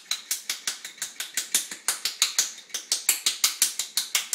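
Ice rattles inside a cocktail shaker mixing a martini in quick, even bursts, about five a second, sharp and close for several seconds.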